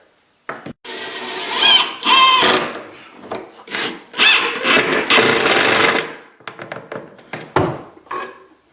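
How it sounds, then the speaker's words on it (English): Drawer slide being screwed onto a wooden cabinet, a close, loud grinding whir of a driver in uneven bursts of a second or two, with short pauses and scraping between them. "I'm going to screw this one onto the cabinet"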